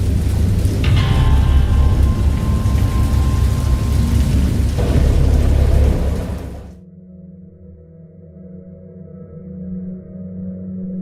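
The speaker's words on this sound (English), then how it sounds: "I know that I heard peals of thunder and other tones which nature utters only in her wildest moods" A storm brings heavy rain and a deep rolling thunder rumble, loud and dense for about six seconds before cutting to a low, distant droning rumble.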